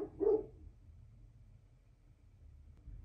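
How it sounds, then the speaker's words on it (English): A single short dog bark, fairly close but not loud, near the start, followed by quiet room hum. "Sorry, my dog's barking."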